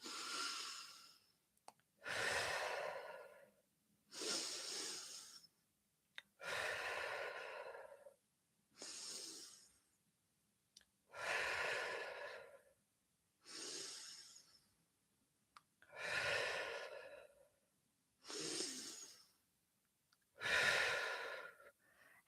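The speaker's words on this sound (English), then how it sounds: "if you want to add an inhale and an exhale" Slow, deep breathing during a side-to-side swaying exercise: about ten long, airy breaths in an even rhythm with quiet gaps between, close and soft, no talk.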